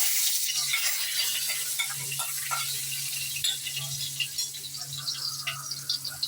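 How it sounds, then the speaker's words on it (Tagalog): Chopped garlic sautés in hot oil in a pan, a steady soft sizzle with occasional scraping stirs and light crackles, close up, with a low hum in the background and no talking. "Gigisa na natin ating bawang"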